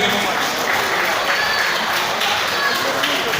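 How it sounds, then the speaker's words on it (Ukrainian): An audience in a hall applauds the youngest winners of a memorial sports tournament, dense steady clapping throughout at close range with a voice talking faintly underneath. "Зал аплодує, ви руки підняли вверх."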